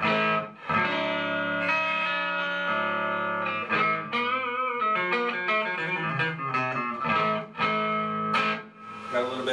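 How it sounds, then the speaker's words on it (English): Electric guitar built from a wine box, played with a clean, slightly overdriven tone and a wash of reverb from a Digitech reverb pedal, chords and single notes ringing out steadily and fairly loud. "Got a little bit of reverb on it from this Digitech hardwired reverb pedal."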